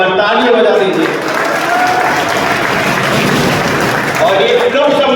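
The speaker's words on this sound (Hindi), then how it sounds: "एक बार ताली बजा दीजिए।" A crowd of students and teachers claps loudly at a 12th class farewell ceremony, a dense, sustained burst of applause filling the room, with a voice speaking over the start and end.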